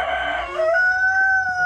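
A thin rooster crows once nearby, a single drawn-out call that rises and then holds steady at a higher pitch until the end.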